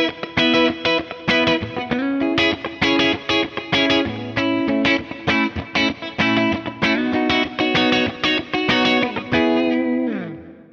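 A distorted electric guitar plays a steady run of notes drenched in delay and reverb, with repeats trailing behind each note and a washy tail at the end.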